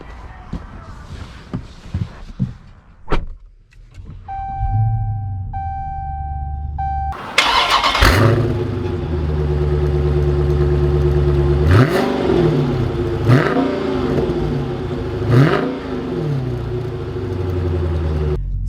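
A 2020 Dodge Challenger Scat Pack muscle car starts with a short cranking whir, a chime and then a deep burbling idle, followed by several throttle blips and rising revs as it pulls away, loud and close.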